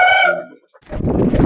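A Kakidaga fighting rooster, sold at a Sankranthi festival market, gives a loud close crow that fades out, followed after a short pause by dense, noisy clucking and rustling.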